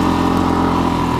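Suzuki DRZ400SM dual-sport motorcycle engine running steadily in first gear at low speed on a hard-top road with a little gravel, a loud, constant close-up drone with no talk.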